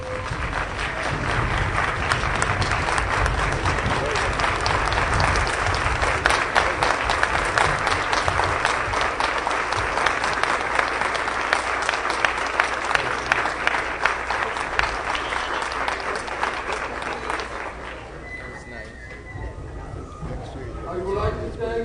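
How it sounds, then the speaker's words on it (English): Audience rising to applaud the Board of Education at a public board meeting: sustained, loud, even clapping from a large crowd that continues for about twenty seconds before thinning out near the end. "I would like to invite all to rise and recognize our Board of Education by applauding."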